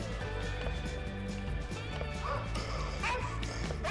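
Video game dogs bark in a string of quick, sharp yips over constant game ambience and music, fairly faint in the mix, with occasional footstep-like clatter.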